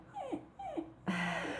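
A dog whimpers and yips in several rising, plaintive cries, close and fairly clear, with no talking over it.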